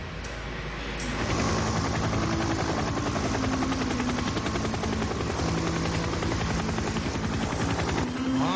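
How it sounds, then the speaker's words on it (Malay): A helicopter in an animated series thunders close overhead, its rotor beating in a rapid, steady loud chop that swells in after a quieter start and holds to the end. "Tok, tu helikopter siapa sebenarnya tu?"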